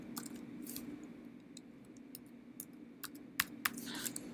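Keys on a computer keyboard tapped during a data-entry exercise, a scatter of quiet, uneven clicks over a steady low room hum, with a few sharper, louder keystrokes near the end.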